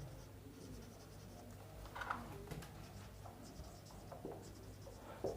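Chalk or marker writing on a classroom board during a biology lecture on cell organelles, faint scratchy strokes in quiet room tone with a few slightly louder marks.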